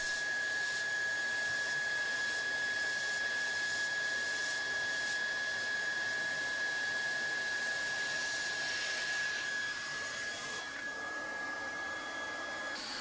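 A hot air welding tool blowing steadily while heating a welding rod into vinyl flooring, a constant loud whooshing hiss with a high whine that barely changes throughout.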